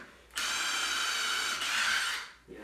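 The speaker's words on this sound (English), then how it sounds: "Yeah, this thing is not going to work for driving drill bits through concrete." A Milwaukee 2853-20 impact driver whirs steadily into concrete, one loud continuous high-pitched run of about two seconds, close and alone, with no hammering impacts evident.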